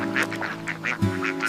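Ducks quacking at a pond, several nasal calls in a quick irregular series, loud and close, heard alone over a low steady hum.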